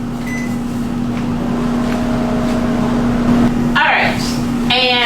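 A large, powerful microwave oven popping popcorn hums steadily with a low drone, ending in a couple of sharp electronic beeps; no distinct popping stands out.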